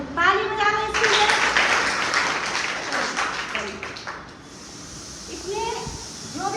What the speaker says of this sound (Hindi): वेरी गुड, ताली बजा रहे इसके लिए।